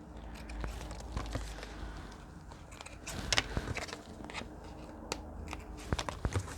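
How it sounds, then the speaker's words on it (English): Scissors snipping strings while making playing cards, a faint, close series of irregular sharp clicks and crunchy snips scattered through quiet room tone. "now we cut the strings, then we ink"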